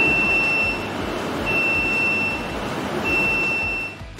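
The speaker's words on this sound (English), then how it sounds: "As soon as the program loads and communicates with the machine's sensors, an alarm will sound." Electronic alarm on a Labtech LCFT34-GP filter tester extruder as its control program connects: a steady high-pitched beep sounding in long, evenly spaced pulses over a constant machine hum.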